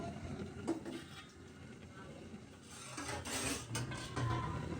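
Potatoes and beef tripe stirred in a cooking pan, with faint scraping and clinking of a utensil against metal recurring at irregular intervals under a low background hum.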